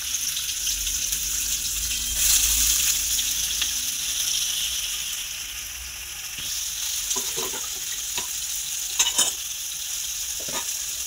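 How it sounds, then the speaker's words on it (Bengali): Bitter gourd pieces hit hot oil in a wok with a loud, close sizzle that settles into a steady crackle, with a few sharp stirring clinks and scrapes toward the end. "তারপরে উচ্ছেগুলো ছাড়লাম"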